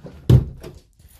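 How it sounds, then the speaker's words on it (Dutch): A door is pushed shut at home with one solid thunk, close and fairly loud, followed by a faint softer knock and a brief rattle as it settles. "Oh, ik zal die deur even dicht doen."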